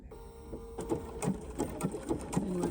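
Bernina sewing machine stitching a small zigzag stitch over cording with a double cording foot, a quick, steady rhythm of needle strokes heard up close after a brief start.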